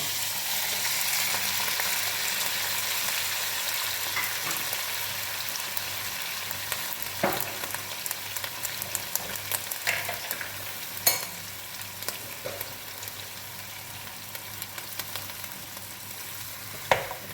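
Onions and tripe fry in a pan, a steady broadband sizzle with occasional sharper scrapes and clacks as the mix is stirred, close and continuous with no talking.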